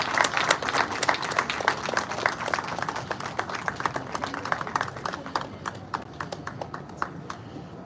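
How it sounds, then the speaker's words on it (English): Book launch applause: a crowd clapping steadily and fairly loudly, dense sharp claps throughout that thin out slightly toward the end. "Can we have a huge round of applause, please?"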